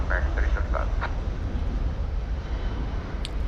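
A Boeing 767-300ER jet at DFW Airport, a loud low engine rumble and roar held steady at close range, with brief radio voice chatter over it at the start.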